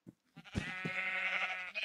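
A Minecraft sheep gives a single drawn-out bleat after a few soft thumps, close and clear, with no voices.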